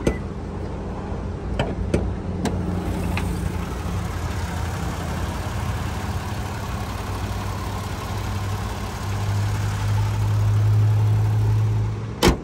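A 2016 Lexus RX-350 engine running, a steady low idle hum held close for several seconds, with a few sharp clicks near the start and at the end.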